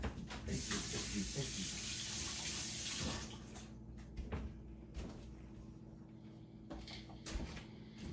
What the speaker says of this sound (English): I'll rinse this egg juice off my hands.